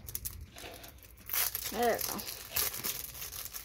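Plastic packaging around a Pokémon Scarlet & Violet Paldea Evolved promo card is crinkled and torn open by hand, producing close, loud bursts of crackling with someone talking over it.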